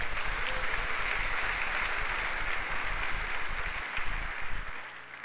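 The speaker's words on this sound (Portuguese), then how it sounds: "Então dá um aplauso ao Senhor, diga amém." A congregation at a family worship service gives a sustained round of applause, many hands clapping at a steady, moderate level with a low rumble underneath that fades slightly toward the end.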